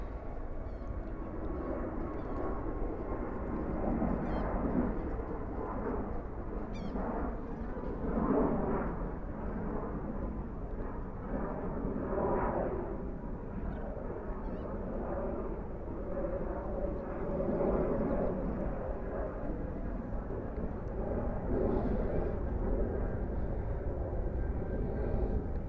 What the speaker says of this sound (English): That's a 777-200 from Air France.